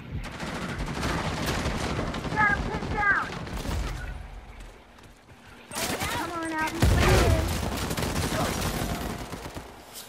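Gunfire in Uncharted 4 rattles in dense bursts of rapid shots, a loud firefight that pauses briefly and then resumes with heavier blasts and a whizzing sweep, mixed with voices shouting between shots.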